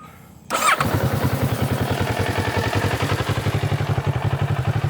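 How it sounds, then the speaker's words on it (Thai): A 2018 Kawasaki Z650 two-cylinder motorcycle engine cranks and catches, then settles into a loud, close, lumpy idle with a steady pulsing beat. "เสียงคาวาสกิเซต650คันนี้นะครับ จะมีสไตล์ไม่เหมือนชาวบ้านเขานะครับ เพราะว่ามันเป็นรถ2สูบนะ"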